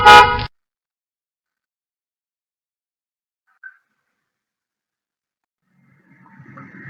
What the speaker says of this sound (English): This sound is honking of the car.